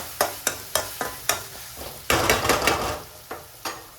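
Dal tadka cooking in a pan is stirred with a utensil, giving a regular series of sharp clacks against the pan over a soft sizzle, then a denser scraping burst before more evenly spaced knocks.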